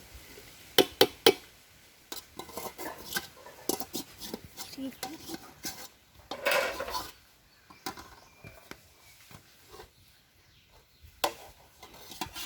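Chicken pieces stirred in a pot for a home-style chicken biryani, with irregular bright clinks and scrapes of a utensil against the pot, some louder knocks, and a brief swell of sizzle midway, close and fairly loud with quiet gaps.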